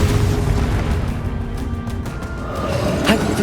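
Spell blasts in the Hogwarts Legacy video game, including a Confringo fire explosion, give a loud rumbling boom and bursts layered over dense combat noise, with a sharp pop near the end.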